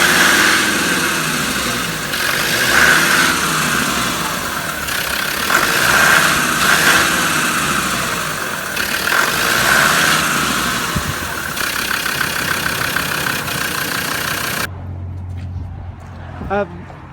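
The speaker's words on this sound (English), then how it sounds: "So you just heard the engine running." Loud diesel engine of a Land Rover Defender 110 TD5 idling close by with a steady rumbling drone, running continuously, then cutting to a quieter low hum near the end.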